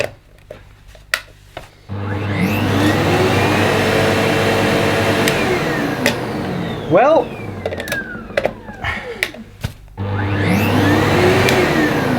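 A household vacuum cleaner switches on after a short delay and runs with a loud, steady whirring hum for several seconds before cutting off, with brief speech and clicks around it.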